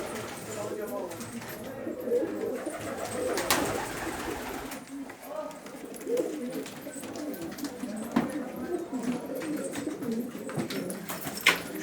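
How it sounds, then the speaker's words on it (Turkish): Pigeons, including Arabian, Syrian and homing breeds, coo softly and repeatedly in the background of a pigeon loft, layered with rustling and some muffled talk, the cooing continuous across the clip. "Kuşlar da tedirginler yabancı gördükleri için."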